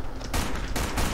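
Gunfire from the online shooter game Black Squad, two loud, dense bursts of rapid shots filling the clip, close and harsh, with no speech.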